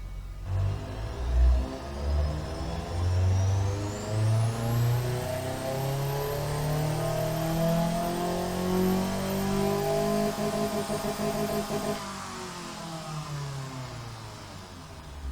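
A CS-1 Sport car engine in the game Automation revs up and down through rising and falling pitches, a sporty exhaust note heard close and steady, with no talking.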